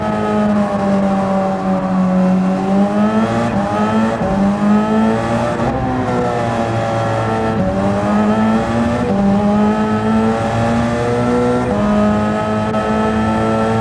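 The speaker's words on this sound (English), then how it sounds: "That car was real fast in a straight line" Race car in a racing video game at the Spa circuit, its engine droning loud and close with the pitch sweeping up and down through gear shifts, held continuously at speed with no talk.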